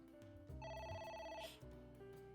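A telephone in a video game rings with a loud electronic bell trill lasting about a second, followed by a quieter hum and a brief tone, with no voices.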